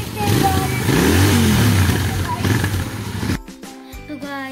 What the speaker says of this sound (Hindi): तो गाइस अभी मेरे भैया रेस डाल रहे हैं स्पोर्ट बाइक की।